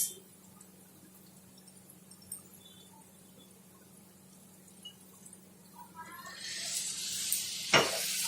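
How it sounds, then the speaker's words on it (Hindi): Soy sauce poured over stir-fried chapati noodles in a hot pan brings a rising hiss and sizzle near the end, after a long stretch of faint, quiet background. "अब इसमें हम डाल देंगे 1 टीस्पून के करीब सोया सॉस"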